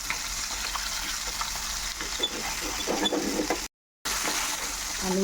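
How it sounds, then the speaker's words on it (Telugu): Fish pieces frying in oil with curry leaves over medium heat, a close, steady sizzle with stirring scrapes, briefly cutting out near the end before the sizzle resumes. "ఇప్పుడు చేప ముక్కలు వేసుకుందామండి."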